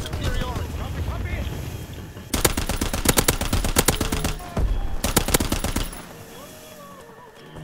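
Bursts of rapid rifle fire from a World War II first-person shooter, Call of Duty WW2, crackle loudly in two long stretches over a steady windy ambience, with a player's voice talking between volleys.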